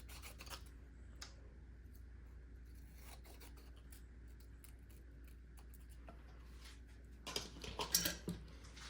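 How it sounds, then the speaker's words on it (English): Scissors cut out paper hello lettering in a quiet room, making soft, close snips and rasping rubs, with a denser burst of cutting near the end. "I'm just going to cut out my hello"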